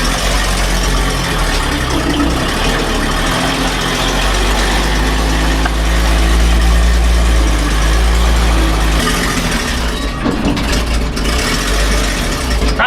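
A classic 1957 GMC truck carrying a water well drilling rig idles loudly up close, a steady deep engine rumble with mechanical rattling that shifts slightly as it is put into gear, with no talk over it.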